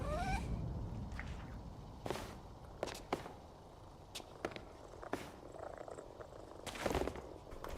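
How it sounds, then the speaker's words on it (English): A cat purrs softly as it is petted in the video game PowerWash Simulator 2. The quiet, steady purr sits under scattered light taps and footstep-like clicks. "look, you can go pet the cat."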